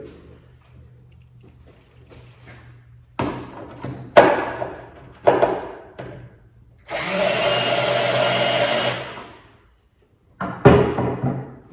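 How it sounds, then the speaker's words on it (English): A few sharp knocks and taps, then a close, steady whine of a power drill boring a hole in a Flying Scot sailboat rudder blade for a few seconds before stopping, followed by more clatter. "mark the hole so we can drill it"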